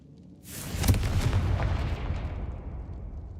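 A Confringo blasting spell explodes in Hogwarts Legacy with a sharp, loud boom that rolls into a long rumbling decay over a few seconds, with no talk over it.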